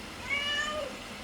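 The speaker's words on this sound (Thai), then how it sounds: "เหมียวเฉยๆอยู่เลยอะ" A cat meows softly, a short wavering cry that rises and falls once, faint and somewhat distant over a steady background hiss with no talking.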